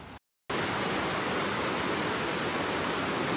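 Broadband rushing water of the Seiwa river flows steadily and fairly close, a continuous dense roar beginning after a brief gap, in a rural rice-farming area near a railway crossing in Shōbara, Hiroshima.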